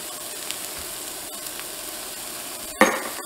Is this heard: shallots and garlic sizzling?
yes